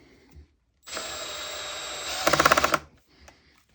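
A 12V Milwaukee cordless drill driver at its highest torque setting, 16, whirs steadily for about two seconds, then breaks into a rapid rattling clatter as the clutch slips, stopping abruptly.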